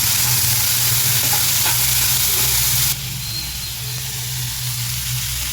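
Tomatoes and curry leaves roast in a hot pan, giving a steady close sizzle with stirring scrapes that drops in level partway through as the frying settles.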